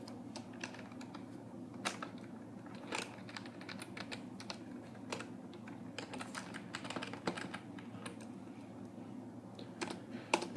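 Fingers tap out C++ code on a computer keyboard in quick, uneven clicks, close and quiet over a low steady hum, with no voices.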